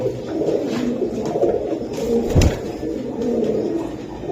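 Pigeons, including a silver bird in a pair, coo in a low, steady rolling murmur close by, with a slightly louder burst midway and no talking over it.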